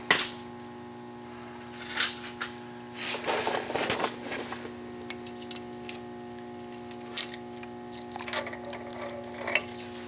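A ratchet socket wrench working on a Dana 44 axle nut during axle shaft replacement, giving irregular bursts of clicking and metallic rattles close by, over a steady low hum.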